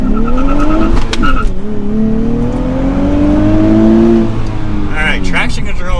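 A 2023 Nissan Z with a manual gearbox launches with launch control, its engine climbing through a long loud rising pull, with a shift and tire chirp, then rising again, close and aggressive with no talk.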